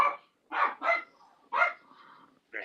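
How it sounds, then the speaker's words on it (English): A dog barks four times in short, close bursts, the first two quickly paired and the others spaced out, with brief quiet gaps between. "I hate this dog."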